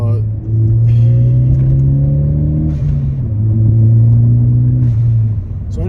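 A 2016 Ford Focus ST accelerates through the gears in the city, engine note rising in two pulls with a drop at the shift, heard from inside the cabin as a loud, steady rumble.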